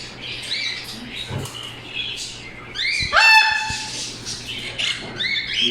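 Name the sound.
cockatiel squawking in a bird shop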